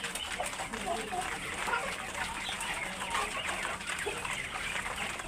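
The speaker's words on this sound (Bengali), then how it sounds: "এগুলো আমার অনেক বড় বড় মুরগিগুলো অনেক বড় বড় মুরগি" Large giant-variety Australorp hens on an urban farm cluck over a steady, noisy yard background, while someone talks throughout.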